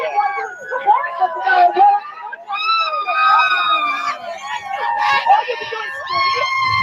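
Protesters at a political debate scream and shout in loud, overlapping bursts, with crowd chatter mixed in throughout.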